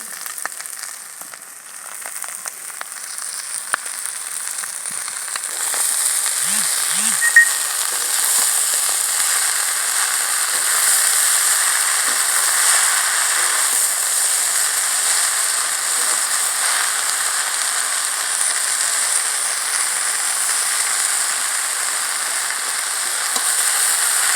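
Steady crackling sizzle of greens frying in a wok, a continuous hiss that swells louder after a few seconds and holds, with occasional clinks.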